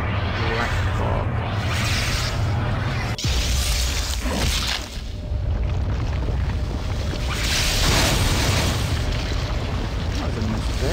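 A black fog spell cast in the game Planescape Torment gives a dense, rumbling whoosh with booming swells that rolls on loud and unbroken for several seconds.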